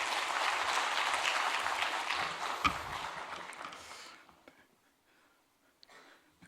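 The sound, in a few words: church congregation applause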